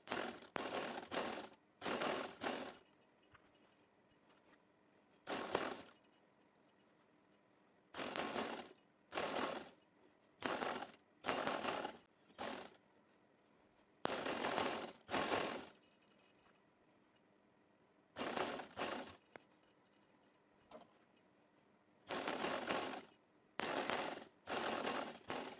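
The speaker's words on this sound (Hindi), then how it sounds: "एक एक पैर का दबाव लेके हम इस पर सिलाई लगा देंगे।" Foot-pedal sewing machine stitching lace onto trousers, running in repeated short bursts of rapid mechanical whirring separated by brief quiet pauses, close and fairly soft.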